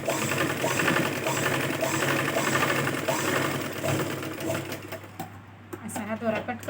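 Sewing machine stitching a blouse seam, a fast rhythmic mechanical chatter running steadily and close, then stopping near the end, with someone talking over it.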